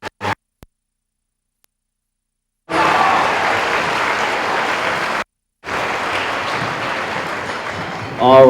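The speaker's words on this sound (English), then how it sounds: "Can we give a roaring round of applause to our janitorial staff here at this?" Audience at a school band concert applauds the janitorial staff, a dense wash of clapping that starts after a short silence, breaks off for a moment, then resumes, with a voice coming in at the very end.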